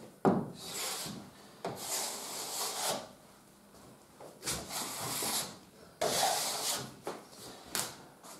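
Second coat of Feidal Acryl-Spachtel finishing putty being spread with a spatula: rough scraping and rubbing strokes in repeated bursts, close and moderately loud, with no talking.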